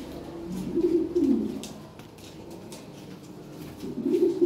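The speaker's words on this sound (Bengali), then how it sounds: "খুবই চমৎকার কবুতর, ফুলের মতো সুন্দর।" Lahore pigeons coo softly nearby in two short bursts of low, throaty calls separated by a quiet pause.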